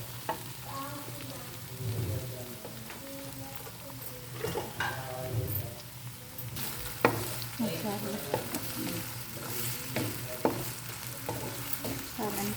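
Onions frying in a tempered oil base for a potato fry, a close sizzling hiss with frequent scraping and clattering strokes of a spoon stirring the pan, irregular and continuous.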